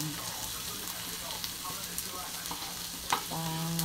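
Garlic browning in hot cooking oil crackles and sizzles steadily, with a spoon stirring through it and a brief clatter near the end, while a voice talks faintly underneath.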